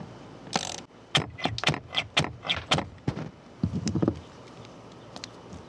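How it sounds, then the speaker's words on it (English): Metal bolt spun out of a boat's hull-to-deck joint from above while the nut is held below, giving a string of sharp clicking, ratcheting bursts in quick rhythm, close and fairly loud, then a softer scraping patch. "She's going to be holding the nut while I spin the bolt out from above."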